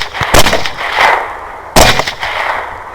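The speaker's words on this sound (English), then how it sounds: "I'm going to open up with what's going to be a twofer with a follow-up headshot" Two loud rifle shots during a hog hunt, the first booming and echoing, the second a follow-up roughly a second and a half later, both sharp and close with rolling tails.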